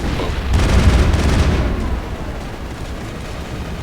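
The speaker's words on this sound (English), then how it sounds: "Grenade." A grenade in Mass Effect goes off as one loud, deep boom whose rumble swells and then decays into a lingering roar, with no voices.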